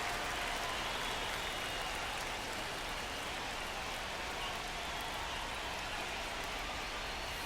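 Steady crowd roar from a baseball stadium crowd in MLB The Show 25, a game between the Detroit Tigers and New York Yankees, forming a continuous wash of cheering and applause with no talk over it.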